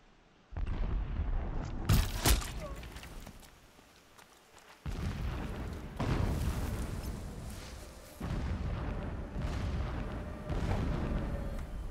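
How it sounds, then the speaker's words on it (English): Howitzer explosions in the video game Horizon Zero Dawn, a series of loud, heavy booming blasts with rumbling tails, arriving in several bursts separated by brief quieter gaps. "That's a lot of explosions. Are these howitzers?"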